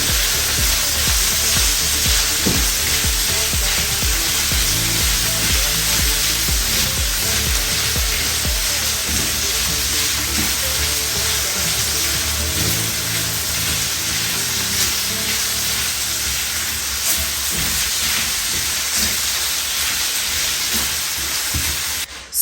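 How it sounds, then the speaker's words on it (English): Beef browning in a hot pan for a pepper steak pie, a steady close sizzle and crackle of frying meat running throughout with no talking. "So it's not done cooking, we just browned the meat."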